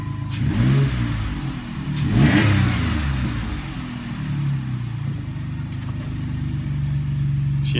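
A 2006 Jeep Liberty engine, just fixed for a misfire at the number 3 coil and plug, revs up smoothly a couple of times and settles back to a steady idle, close and loud.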